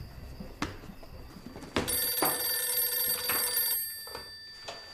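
A telephone rings alone in a room, sounding repeated bright electronic rings that start after a couple of soft knocks and fade toward the end.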